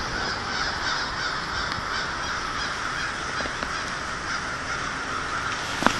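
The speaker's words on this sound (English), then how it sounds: "more crows coming in from that way, and there's some more crows flying in over here" Many crows caw from the trees, with a dense, overlapping chorus of harsh calls that carries on steadily at middle distance, some birds nearer and louder than others, and no one talking.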